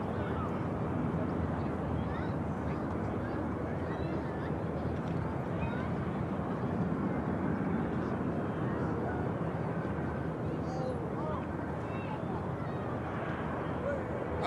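A Singapore airliner taxis at Manchester Airport, its engines making a steady broadband roar and rumble that holds without a break, with wind buffeting across the microphone.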